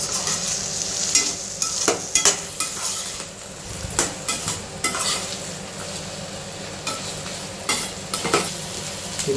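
Watermelon chutney ingredients sizzle as they fry in a pan while a utensil stirs and scrapes against it in irregular clinking strokes, close and clear over a constant low frying hiss, with no talking.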